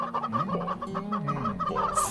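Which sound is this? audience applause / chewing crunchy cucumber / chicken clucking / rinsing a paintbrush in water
chicken clucking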